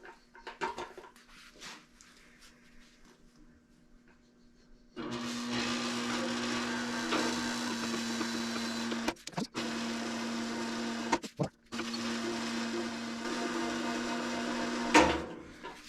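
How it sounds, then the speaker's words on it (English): A bead roller runs along a sheet metal panel for a custom hood molding, giving a steady mechanical whir and grind for about ten seconds with two short breaks. Quiet handling noises come before it starts. "So now I'll take it in and roll it with the bead roller."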